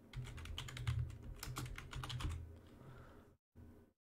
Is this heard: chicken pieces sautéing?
no